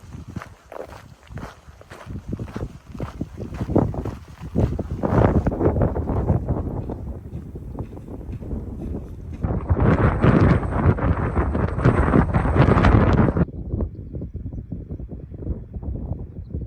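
Strong, cold outdoor wind buffets the microphone with loud, gusting rumbles that surge and ease, peaking in a harsh burst before calming somewhat.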